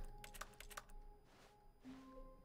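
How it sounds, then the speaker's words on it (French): Quick bursts of crisp keyboard clicks from the video game The Stanley Parable: Ultra Deluxe, a handful of keystrokes in rapid succession, over soft electronic tones and a quiet background hum. "c'est quand on clique, ça fait le bruit de clavier."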